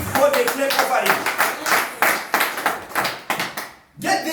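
Church congregation clapping together as an offering, quick rhythmic bursts of hand claps close by, mixed with shouting voices and an abrupt brief pause before the clapping resumes.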